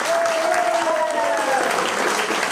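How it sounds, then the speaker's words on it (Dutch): Clapping from the audience at a 2014 municipal election debate in Bladel keeps up a steady, full roar. A sustained voice-like tone rises briefly above the crowd partway through. "Maar ik wil een heel warm applaus voor de mensen die hier staan."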